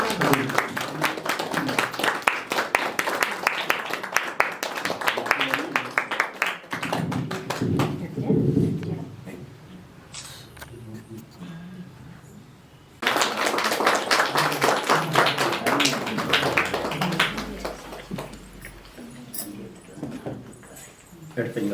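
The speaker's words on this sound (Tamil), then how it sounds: "எல்லாரும் கரங்களை தட்டுவோம்." An audience claps hands at a Diwali celebration event, with bursts of dense, steady applause, a lull in the middle and then a second loud round, while people talk over and between the clapping.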